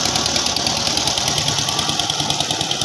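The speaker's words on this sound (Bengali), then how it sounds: "দেখেন আরেকটা নৌকা এই দিক দিয়ে আসতেছে।" A fishing boat engine chugs nearby near a bridge, a steady rapid knocking drone that stays loud and even throughout with no talk.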